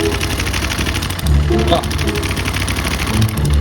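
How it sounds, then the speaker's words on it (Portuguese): A Honda Twister 250 motorcycle engine with a timing chain fault runs close by, giving a steady mechanical rattle and clatter under someone talking briefly. "E a gente vai ver se a zoada sai da moto"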